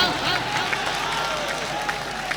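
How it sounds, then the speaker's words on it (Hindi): Audience at an All India mushaira ghazal gathering applauds, a steady wash of clapping and crowd noise throughout, with faint voices underneath. "सब खड़े होकर जोरदार तालियों से स्वागत कीजिए हामिद साहब का"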